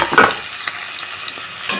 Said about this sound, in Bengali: কুমড়ো পাতা কুমড়োর ডাঁট টমাটো আর কাঁচা লঙ্কা এগুলো হালকা একটু ভেজে নেব